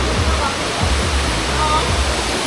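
Rushing water from a hidden waterfall in the Philippines, a steady broadband roar that fills the whole clip, close and fairly loud, with low churning rumbles underneath and no clear speech.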